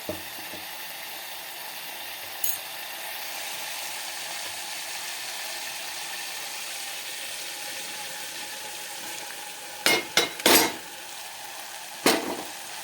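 A ground paste of pigeon pea pods is stirred into a frying curry, giving a steady, close sizzle with a few sharp clinks of the spoon against the pan near the end.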